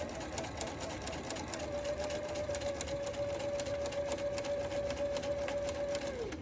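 A sewing machine stitches a straight line across fabric for a Sew Together bag, giving a steady, rapid mechanical whir that runs continuously at moderate volume with a faint high whine, and no one speaks.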